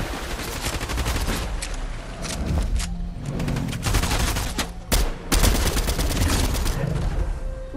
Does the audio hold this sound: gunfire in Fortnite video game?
yes